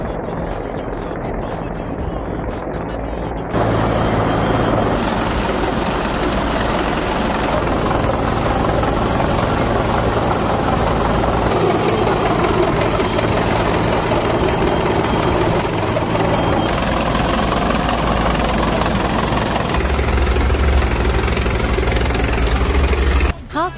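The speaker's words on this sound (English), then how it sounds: "The helicopter's rotors create a lot of noise and downwash" Coast guard helicopter hovering low over the bay during a sea rescue exercise, its rotors producing a loud, steady whirring roar with heavy low engine drone throughout, close by and constant.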